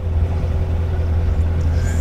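Corvette C7 Z06 engine fitted with a Mild 2 Wild exhaust, a steady deep idling rumble, close and constant with a heavy low drone and no voices.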